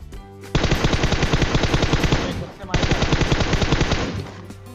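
Automatic gunfire in PUBG Mobile, shot by a bot: two long, loud bursts of rapid shots, the first running about two seconds, a short gap, then the second burst lasting almost as long.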